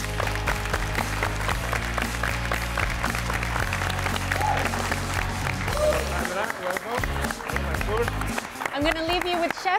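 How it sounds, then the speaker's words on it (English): An audience applauds at a kids' cooking competition, steady clapping that runs under music and a voice talking over it. "Let's give them a round of applause."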